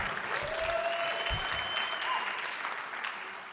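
An audience at a lecture on drugs applauds, with steady, dense clapping from a large crowd continuing throughout and a few faint voices mixed in.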